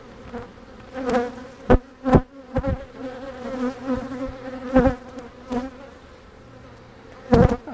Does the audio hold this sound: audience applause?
no